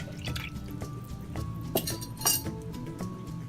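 A spoon stirs homemade lemonade with added lemon juice, clinking against the glass container with some liquid sloshing and dripping, close and fairly loud with no talk.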